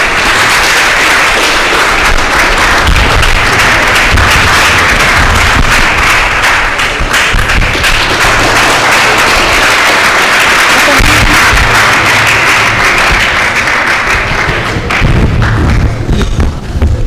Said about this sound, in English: You can clap better.